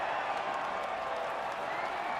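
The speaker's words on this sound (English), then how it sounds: "the reaction from the crowd must be incredibly uplifting for them" A crowd in the F1 2019 racing game cheers and applauds at the podium ceremony, a steady, distant wash of clapping and voices with no single clear call.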